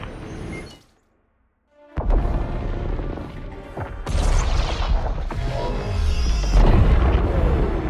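Explosions and crashing from a Starhawk's violent crash landing in Star Wars Squadrons: a loud rumble, then a near-silent gap, then heavy booming impacts and roaring debris that build and stay loud to the end.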